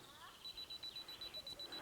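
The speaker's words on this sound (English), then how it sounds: "So I've got the 2-second timer on" A camera's two-second self-timer counts down with a regular series of short, high electronic beeps, about eight evenly spaced pulses, close by and clear over a quiet background.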